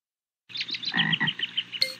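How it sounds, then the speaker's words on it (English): Small frog croaking in a quick series of bright, chirpy calls, fairly close and clear, alone with no voices or background noise. "Meet Max, the smart little frog."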